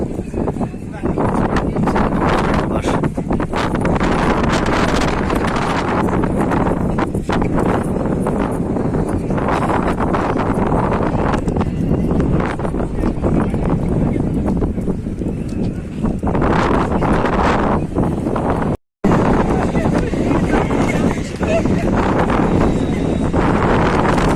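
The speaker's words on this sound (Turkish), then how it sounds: "Çok güzel bir rüzgar esiyor." Strong southerly lodos wind in Istanbul buffets the microphone in a constant roar, with gusty rumbling that barely lets up.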